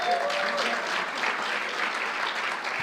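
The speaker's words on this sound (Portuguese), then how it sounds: "Dá um aplauso ao Senhor." Congregation applause at a church service, a steady, fairly loud wash of many people clapping together throughout, with a brief voice at the very start.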